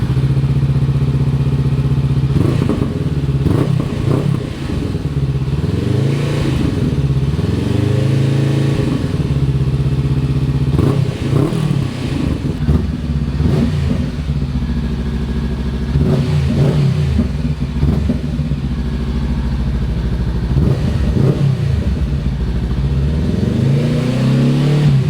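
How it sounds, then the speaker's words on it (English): Honda NX500 motorcycle with its exhaust baffle removed, revving repeatedly in loud, throaty bursts that rise and fall over a steady idle, close by with no talking. "Now let me go on and reattach the exhaust and get the sound test without the"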